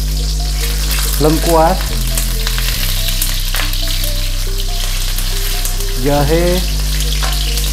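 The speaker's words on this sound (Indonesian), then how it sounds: "dan sekarang aku tumis." Lemongrass, shallots, garlic, galangal and ginger sautéing in hot oil, loud close sizzling with a few stirring clatters, while someone talks briefly twice.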